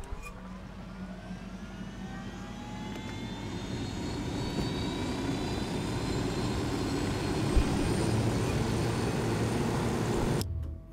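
Helicopter flying in the video game Tom Clancy's Wildlands, a loud continuous engine and rotor roar with slowly rising whine tones, holding steady for about ten seconds before cutting off abruptly.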